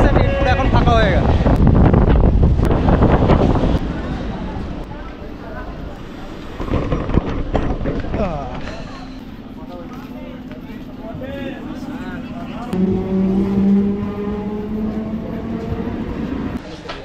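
A local train departs Basirhat station on the Sealdah line in West Bengal: steady low rumble and wind buffeting, then a rising electric motor whine as it picks up speed, with voices in the background.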